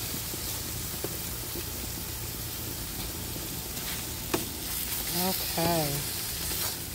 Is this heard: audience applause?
no